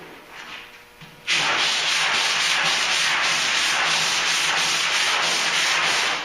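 Block sanding of body filler on a truck's wheel arch, a steady loud rhythmic abrasive rasp of even strokes after a quieter start, close up with no talking.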